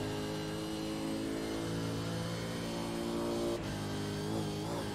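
The Holden V8 race car engine in the iRacing game on the Nürburgring drones loudly and steadily, with a rich, harmonic tone. Its pitch drops sharply partway through, like a gear change, then climbs again.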